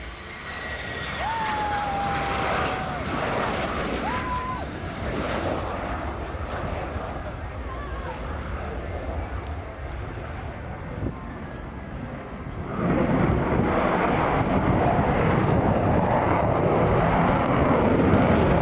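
An aircraft flying a touch and go at an air show roars steadily from a distance, with wind rushing over the microphone and a louder swell of engine noise near the end.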